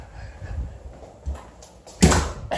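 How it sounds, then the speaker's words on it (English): A door blows open indoors with a sudden loud bang and rush of noise near the end, following quieter rustling and a soft thump. "the door blew open."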